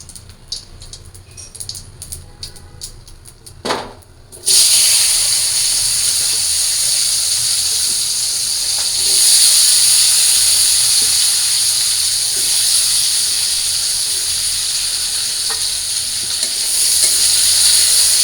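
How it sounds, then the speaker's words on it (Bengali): Cumin, potatoes and flat beans drop into hot oil with a sudden loud burst of sizzling that settles into a strong, steady hiss, close up, after a few seconds of quiet kitchen clatter, with no speech. "তো এই তেলের মধ্যে দিয়ে দিই আমি জিরা তারপরে আলু আর সিমটা দিয়ে দিই"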